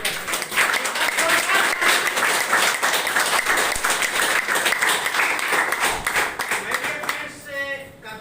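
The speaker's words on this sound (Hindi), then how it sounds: "बेहतरीन तालियों से उनका जोरदार स्वागत जरूर करते हैं" Audience applause greets a speaker, dense steady clapping from a crowd that stays loud for most of the stretch and then thins out toward the end.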